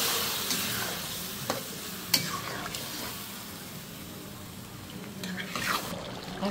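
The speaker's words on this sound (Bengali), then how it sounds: "আমি এটা ভেজে নিচ্ছি।" A pan sizzles steadily as food, including yogurt, is fried and stirred for an egg korma, with scraping spoon strokes and light clinks close by over a constant hiss.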